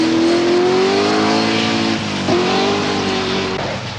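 A Triumph TR7 V8 rally car on the Donington Park stage of the 1979 Lombard RAC Rally, its loud engine droning and revving near, pitch rising and dipping, with no voices.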